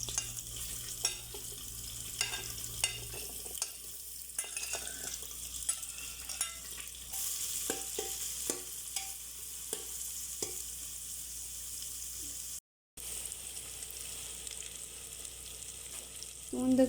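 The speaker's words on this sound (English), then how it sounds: "We will shallow fry it." Sliced onions shallow fry in a pan for a mutton masala gravy, with a quiet, steady sizzle and occasional stirring clicks and scrapes, a brief gap of silence partway through.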